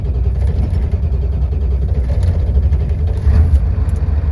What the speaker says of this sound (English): That is a totally cold start